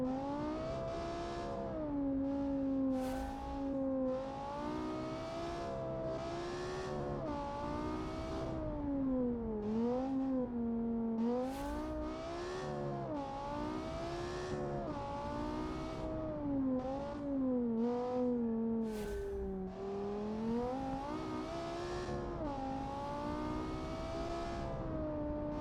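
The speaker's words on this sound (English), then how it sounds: "that engine sounds amazing" A race car engine during Le Mans testing in a racing game holds a loud, close, continuous roar, its pitch climbing and dropping repeatedly through upshifts and braking over a long run, with no voices.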